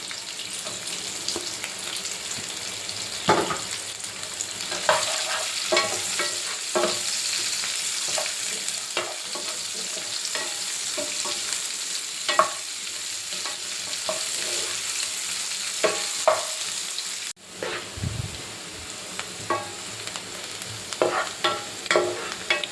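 Green chillies and onions sizzle steadily in a pan for a carrot, capsicum and potato curry, with a dense, continuous hiss and scattered spatter crackles, plus a brief stir-like clatter near the end.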